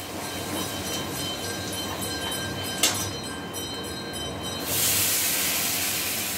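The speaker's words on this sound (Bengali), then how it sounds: "এবার তেলের মধ্যে ফোড়ন দিয়ে দেওয়া হলো গোটা জিরে আর দুটো তেজপাতা" Whole cumin seeds and two bay leaves sizzle in hot oil, a dense continuous hiss with a sharp crackle near the middle and a louder surge toward the end.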